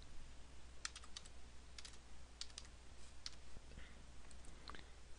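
Password typed on a computer keyboard during a WordPress install, quiet short bursts of a few close keystroke clicks with brief pauses between them over a faint room hum.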